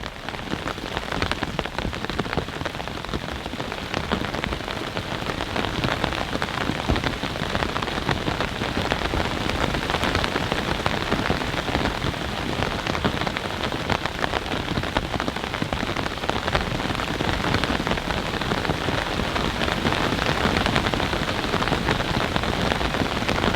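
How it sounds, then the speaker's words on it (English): Heavy rain drums on a TOMOUNT backpacking tent overnight, a loud, dense, unbroken patter of drops on the fabric that holds steady from start to finish with no voices. "More rain should be hitting in the next couple of minutes."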